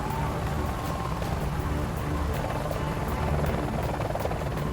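A rescue helicopter hovers in gusty wind, its engine and rotor roar steady and loud throughout, with faint rhythmic blade thumping beneath the wash of noise.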